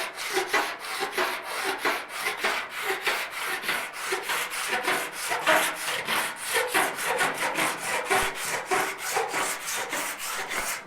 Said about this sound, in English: take the file again.